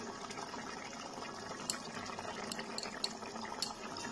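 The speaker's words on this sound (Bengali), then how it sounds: "একটু ফুটিয়েই আমি এটাকে নামিয়ে দিচ্ছি।" Chanda fish curry (jhal) topped with chopped coriander bubbles in a pan, a steady soft simmering hiss with a few brief sharper pops, close and alone without talk.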